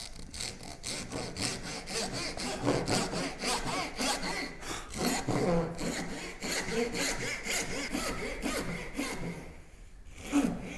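A hand saw cuts a wooden dovetail joint for a book stand, a steady rhythmic back-and-forth rasp of close strokes that continues throughout.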